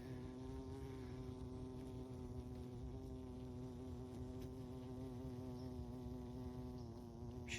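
A honeybee buzzes steadily around a hive on a snowy late-winter day, its droning hum close and continuous throughout, with no talking.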